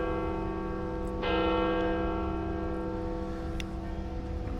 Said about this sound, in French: Pile synchro avec les cloches